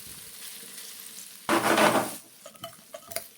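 Masala-coated food roasting in a hot pan, turned and stirred: a low steady sizzle, then a loud burst of scraping and sizzling as the pieces are flipped, followed by a few light clinks and stirring taps.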